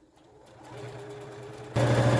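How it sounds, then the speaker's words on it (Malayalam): An electric sewing machine stitches a homemade fabric door mat, starting quietly and then running at a steady, fast, loud whirring clatter for the final half second. "ഫുള്ള് തയ്ച്ചെടുത്തിട്ടുണ്ട്."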